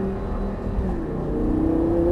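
An Audi R8 accelerates on the Lyon race circuit, its engine note climbing steadily in a continuous whine and roar heard from close by.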